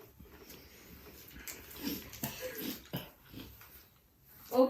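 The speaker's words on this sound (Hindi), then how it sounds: "कुत्ता।" A dog sound played as the mystery sound in a guess-the-sound game, with faint panting or whimper-like noises spread across the stretch and a louder burst at the end, heard fairly quietly.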